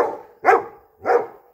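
A golden retriever barks twice, close and loud, two sharp separated barks with a short pause between them.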